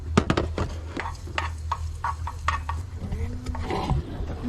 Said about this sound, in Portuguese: Começando a dourar nosso alho